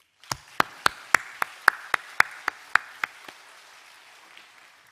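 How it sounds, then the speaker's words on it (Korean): A church congregation claps together in a steady unison beat, about a dozen sharp, evenly spaced claps that stop abruptly, with a faint room echo after each. "우리 같이 뜨거운 박수로"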